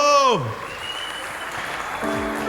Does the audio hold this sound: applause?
yes